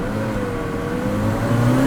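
A 1985 Ferrari 288 GTO engine revving: a loud, steady, close-up whirring drone whose pitch climbs a little toward the end.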